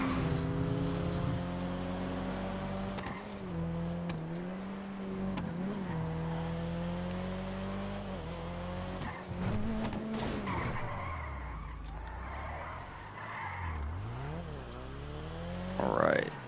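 A JDM car in GTA Online circles a track, its engine droning and revving with repeated tire skids and squeals as it slides through corners, the pitch sweeping up and down, with a voice talking over it.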